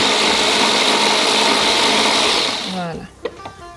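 An electric blender whirs loudly as it blends yogurt with a little salt, a steady close-up grinding roar that cuts off near the end and leaves a few faint clicks and movements.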